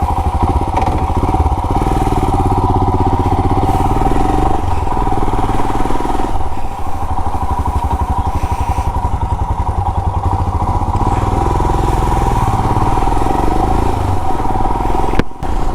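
A Royal Enfield Himalayan motorcycle carrying waterproof trail packs is ridden on a short spin, its engine thrumming close and steady with rhythmic pulsing and occasional clatter, and no talk over it.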